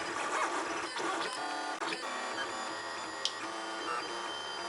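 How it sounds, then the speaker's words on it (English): A 3D printer prints brackets for a duck house, its stepper motors whirring and buzzing steadily with a few small clicks, close and alone. "Back wall holes starting to take shape here."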